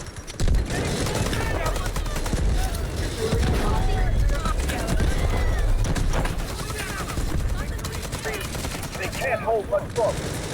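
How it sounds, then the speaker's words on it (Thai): Sustained automatic gunfire in the Delta Force shooter game: dense, loud bursts fired almost continuously for several seconds, with a voice talking over part of it. "ยิงมั่วจนกระสุนหมดอ่ะ"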